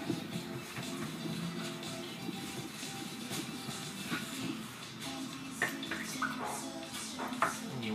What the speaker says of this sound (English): you just rub it on the stone.